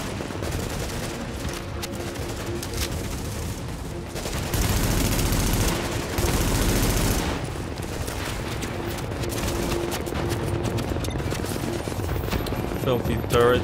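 An automated turret fires in The Division, producing sustained rattling bursts of gunfire mixed with booming impacts. A louder, denser stretch comes around the middle, and a person talks intermittently over the shooting.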